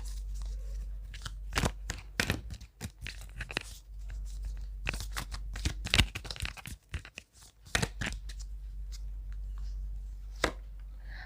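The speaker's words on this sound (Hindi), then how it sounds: "मैं रैंडमली चूज़ कर लेती हूँ 3 कार्ड्स" Oracle cards shuffled and pulled from a deck, close up: a run of sharp papery flicks, snaps and rustles in irregular bursts, with quieter handling between them and no talking.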